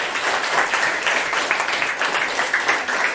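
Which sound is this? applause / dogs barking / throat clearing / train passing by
applause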